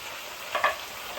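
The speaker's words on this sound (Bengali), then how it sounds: "আমার ওই সবজিগুলো একটু ভাজা হয়ে গেছে, তাই বেগুনটাকে দিয়ে দিলাম" Eggplant and slit green chilies go into a pan of frying vegetables. A brief stirring scrape is heard over a faint, steady sizzle.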